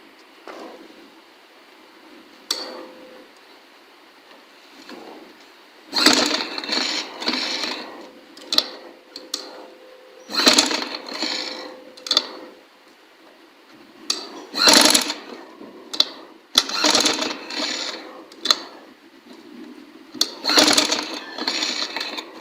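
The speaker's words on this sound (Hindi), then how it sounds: "अब हमने इस कोने पर स्टेप को रख कर सिलाई लगा लेनी है।" A sewing machine stitches a cloth cover for the Holy Quran in short, stop-start bursts of fast rattling needle strokes, with pauses and clicks in between and a faint steady hum underneath.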